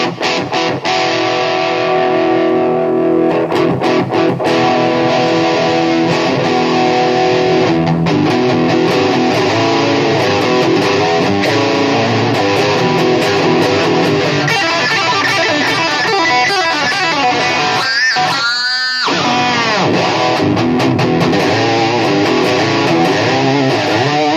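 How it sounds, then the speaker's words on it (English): Distorted electric guitar, an EVH Wolfgang Standard through a 5150 III amp with presence turned fully up, plays sustained chords and riffs, bright and loud throughout, with a short gap and pick scrape near the end. "We got the presence control on here. Let's see how that sounds. If you go all the way up."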